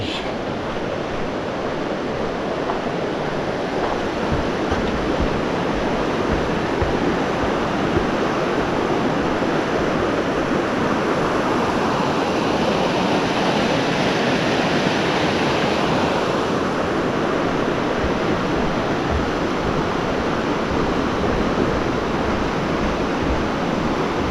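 Water from a creek flows in a steady, broad rush that never lets up, loud and close on a trail walk near a lake outlet, with no voices over it.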